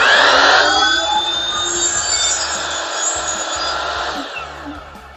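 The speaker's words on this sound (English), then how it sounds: "on a sliding miter saw, we can pull the blade out and make our down cut and then push back" A sliding miter saw cuts through wood, its blade whining loud and close in one continuous, bright buzzing pass that holds steady for several seconds before easing off as the cut ends.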